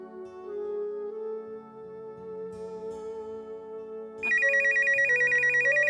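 A telephone starts ringing with a repeating electronic trill, loud and close, cutting in over soft background music.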